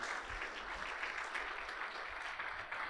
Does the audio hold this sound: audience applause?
yes